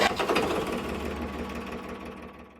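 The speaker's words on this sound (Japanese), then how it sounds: "はい、早速エンジンかけます。 メイン入れて、キーをひねります。" A small fishing boat's engine cranks and catches with the key turned, a rapid rattling clatter that starts loud and settles into a steady, slowly fading running throb.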